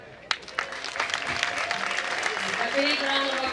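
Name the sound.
audience applause at a graduation ceremony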